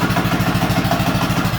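A minibike engine idles steadily, loud and close, with a rapid, even low thump and mechanical clatter throughout and no voices.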